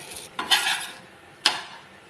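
A potato masala pathiri is flipped in a pan, with two distinct clattering scrapes of a metal utensil against the pan separated by a quiet pause.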